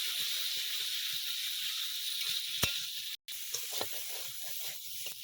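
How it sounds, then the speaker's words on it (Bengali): A ground ginger and green chili paste fries in a pan, hissing with a steady close sizzle, broken by a couple of sharp clicks and a brief cut to silence midway. "আদা লঙ্কা বেটে রেখেছিলাম সে বাটা মশলাটা দিয়ে দিচ্ছি দিয়ে ভালো করে কষিয়ে নেবো"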